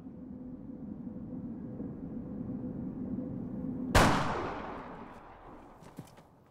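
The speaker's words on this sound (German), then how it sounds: "nehmen Sie Ihr Gewehr auf und schießen Sie!" A single loud rifle shot cracks out in the countryside after a steady low rumble, its sharp report trailing off in a long, fading echo.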